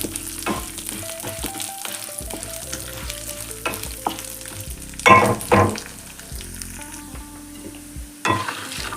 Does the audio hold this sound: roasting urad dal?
yes